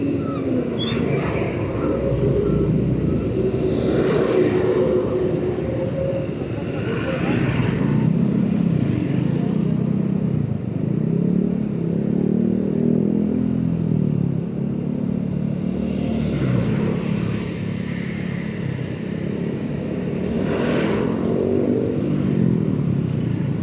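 An Aprilia SR-GT 200 scooter creeps through a traffic jam, its engine droning low amid the rumble of surrounding cars and motorbikes, with occasional swells of passing vehicles close by.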